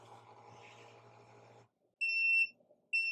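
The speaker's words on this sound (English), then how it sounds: "whenever you hear the 3 beeps, you can lift the lid" A WeVac CV12 chamber vacuum sealer hums low while running, then cuts out and gives sharp, loud electronic beeps, a longer one followed by the start of another after a short gap.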